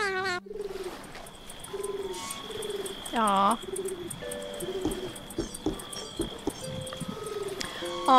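A pigeon in the kitchen of the video game The Supper gives repeated soft, rhythmic coos against quiet ambience, with a person briefly speaking partway through.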